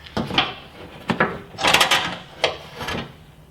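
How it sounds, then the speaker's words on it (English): Bolts being fitted onto a rock slider on a Jeep Cherokee XJ, heard as a close run of metallic clicks, ratcheting and scraping bursts in an uneven rhythm, fairly loud, with no talking. "now I'm just going to go ahead and install these 3 bolts here and work my way across"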